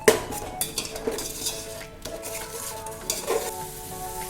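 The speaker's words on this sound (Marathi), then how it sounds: "आता आपल्याला आलं लसणाची पेस्ट टाकायची एक चमचा एक चमचा टाकायची आणि हे छान परतून घ्यायचं आहे" Ginger-garlic paste being sautéed in a pan for chicken biryani, with a soft sizzle under scraping stirring and spoon clinks against the pan; no talking.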